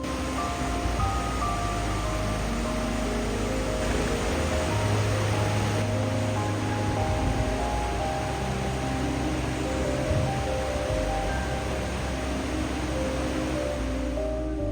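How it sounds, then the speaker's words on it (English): Steady, dense roar of rushing water, unbroken and loud throughout, from the powerful Tvindefossen waterfall near Voss, Norway, heard from nearby. "you can hear the powerful roar of the water"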